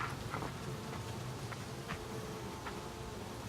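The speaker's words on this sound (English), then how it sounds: "we just gotta dump a bunch of bees into here." Honeybees being dumped into a new beehive make a steady, moderately faint insect buzz that fills the whole stretch, with a few soft knocks and rustles over it and no voices.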